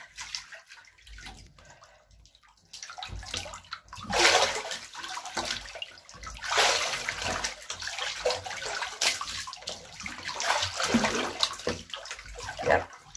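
Water sloshing and splashing in a bathtub as someone bathes, irregular wet swishes and drips at close range, with louder surges at intervals and no talking.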